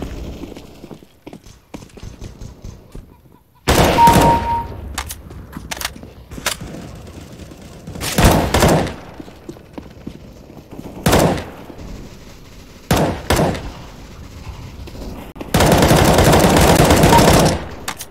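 Bursts of rapid gunfire crack out in several loud volleys separated by quieter gaps, with clip-clopping hooves and distant sounds between them.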